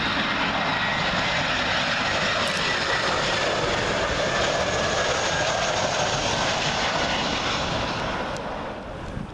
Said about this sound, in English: Next up, Brussels Airlines A320 arriving in from Brussels.